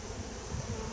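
Honeybees buzz around the entrance and landing board of a small spring nucleus hive, a brief steady close-up drone with no voices.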